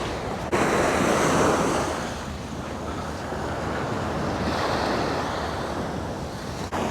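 Sea surf rolls onto the beach at East Coast Park, Singapore, a steady broadband wash with gusts of wind buffeting the microphone, loud and continuous with no voices.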